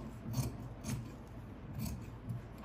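Scissors cutting blouse fabric along the lining for a Katori blouse, soft rhythmic snipping and rasping strokes repeated about four times, quiet and close with no talk.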